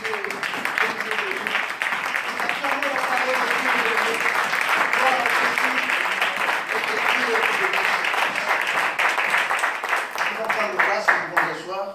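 A church seminar congregation applauds in a long, steady burst of clapping filling the room, with voices and cheering mixed in.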